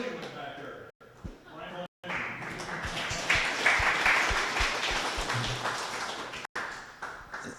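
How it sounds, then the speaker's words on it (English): Guests at a dinner gathering applaud the judges, a fairly soft wash of clapping from a roomful of people, with brief gaps and a voice speaking at points. "Give them a round of applause."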